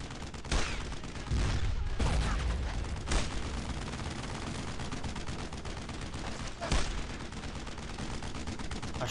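Gunfire in Brothers in Arms: Road to Hill 30, a WWII battle with a tank nearby: sustained rattling bursts and scattered sharp shots over a thick, rumbling bed of combat noise.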